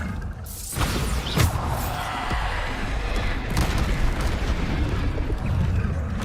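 A booming blast from the Bombarda spell in Hogwarts Legacy, a loud burst followed by a sustained rumbling roar with scattered debris cracks, with a voice speaking over it.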